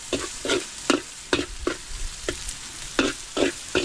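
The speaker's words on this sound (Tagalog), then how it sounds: "Ihulog na rin po natin yung hiniwa pong bikuyo." Sliced bikuyo frying in a pan, heard as a run of regular sizzling bursts and scraping strokes, about two or three per second, close and fairly loud.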